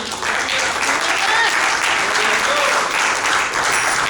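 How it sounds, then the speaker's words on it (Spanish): A church congregation claps together during a service, a dense, steady wash of applause lasting about four seconds with faint voices mixed in. "Dele palmas al Señor Jesús."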